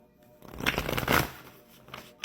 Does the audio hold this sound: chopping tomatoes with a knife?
no